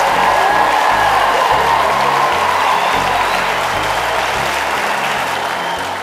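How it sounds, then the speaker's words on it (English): Sustained, steady applause from the audience at a junior and senior choir competition final, broad and dense throughout and tapering slightly toward the end. "a huge round of applause for our other two finalists."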